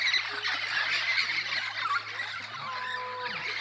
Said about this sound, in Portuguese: Tudo papagaio.